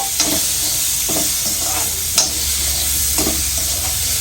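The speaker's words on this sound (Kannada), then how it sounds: "ಮಾವಿನಕಾಯಿ ಮತ್ತು ಟೊಮೆಟೊವನ್ನು ಆ ಒಗ್ಗರಣೆಗೆ ಹಾಕೋಬೇಕು" Raw mango and tomato pieces sizzle steadily in hot oil tempering, with a few sharp scraping stirs of a spoon against the pan.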